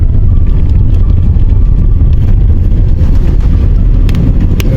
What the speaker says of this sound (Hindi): मुझे तो मजा आ रहा है गाड़ी चला करके।